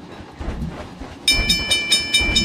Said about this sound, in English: Nice old-fashioned steam train.